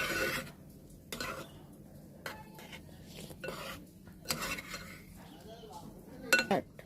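A spoon stirs ground yogurt and coconut paste into a cooking pot of mango pachadi, making repeated metallic clinks and scrapes against the pot at an uneven rhythm, close but fairly quiet, with faint kitchen noise between strokes.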